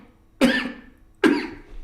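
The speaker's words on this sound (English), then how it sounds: "I got a cough here." Two sharp, close coughs, evenly spaced about a second apart, each with a quick hoarse burst that trails off.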